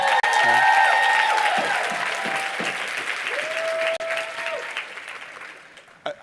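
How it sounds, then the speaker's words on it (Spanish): Audience applause for Brandon Boyd at a motivational talk, a full crowd clapping loudly and steadily before thinning out toward the end, with a voice speaking over it partway through. "Un fuerte aplauso a Brandon."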